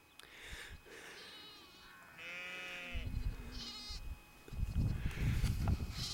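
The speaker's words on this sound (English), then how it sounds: "Well, I could hear some lambs" Lambs bleating in a field in the Yorkshire Dales near Kettlewell and Littondale, several distinct calls at moderate distance, overlapping and varied in pitch, over wind and rustling.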